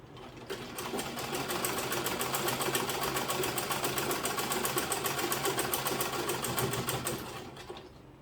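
A sewing machine stitches a bodice in one continuous run of rapid, even needle clatter lasting about seven seconds, close and clear, starting and stopping cleanly.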